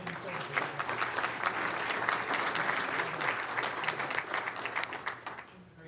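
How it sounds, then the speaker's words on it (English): An audience claps at a county commissioners business meeting, with dense, steady applause that holds for several seconds and fades slightly near the end. "let's have another round of applause for the Human Services."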